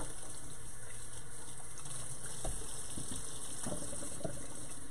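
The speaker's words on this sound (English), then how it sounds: "Let me wash my hands off." A kitchen tap runs in a steady, moderately quiet stream as hands are washed of butter at a sink after making pumpkin cream cheese muffins, with faint splashing and small knocks.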